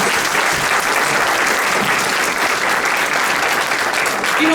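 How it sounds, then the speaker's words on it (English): An audience at a civic coalition brunch applauds, a loud, dense, even wash of clapping from many hands that holds steady with no break. "Can we please give advocacy and policy a really big round of applause?"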